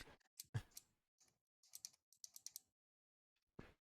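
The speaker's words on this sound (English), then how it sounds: "I hear that clicking." Small sharp clicks from a keyboard switch during epoxy and soldering work, coming in brief irregular bursts with quiet gaps between them, close and faint.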